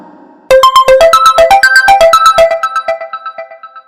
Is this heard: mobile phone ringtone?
yes